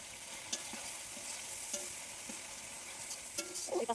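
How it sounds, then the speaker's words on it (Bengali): Spices with turmeric and chilli powder are stirred and fried in a pan while cooking meat, giving a quiet, steady sizzle with occasional scraping stir strokes and small clinks near the end. "মশলা কষাতে কষাতে একটু লেগে লেগে যাচ্ছিলো"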